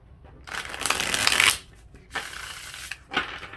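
Tarot cards are riffled and shuffled during a reading, a long crisp flurry followed by two shorter bursts of card flapping, close and without talk.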